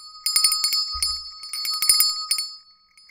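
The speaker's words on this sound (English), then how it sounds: "I'm going to ring the bell." A small physical bell is rung rapidly several times in bursts, bright metallic rings with sustained high overtones, close and alone.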